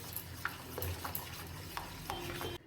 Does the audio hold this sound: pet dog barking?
no